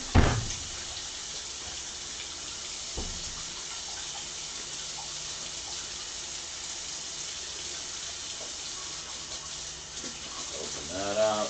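A plastic pork wrapper is rinsed under a running kitchen tap, a steady, fairly quiet water hiss that runs throughout, with a knock at the start and a brief splash near the end.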